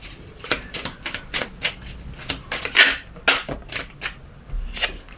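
Lenormand oracle cards shuffled and cut by hand during a reading, a run of quick papery riffles and soft slaps in an uneven rhythm, close and fairly crisp, with no talk.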